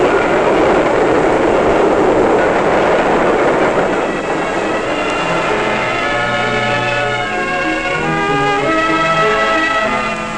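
A French SNCF train rolls past loudly and close by, a heavy roar of wheels on rails with rhythmic clattering that eases slightly toward the end.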